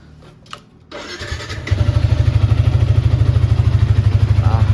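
A partly modified black Yamaha Vixion motorcycle fires up before dawn, a brief crank catching into a loud, steady idle with a rapid, even pulse, close by and with no voices over it.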